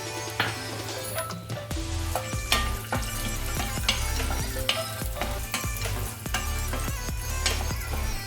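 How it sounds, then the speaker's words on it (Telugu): Dry fruits frying one by one in about two spoons of ghee in a pan on a stove, a continuous close sizzle punctuated by frequent sharp clinks and scrapes of a spoon stirring against the metal. "ఒక 2 స్పూన్ల గీ వేసేసి దాంట్లో ఒక్కొక్కటిగా ఫ్రై చేసుకోవాలి"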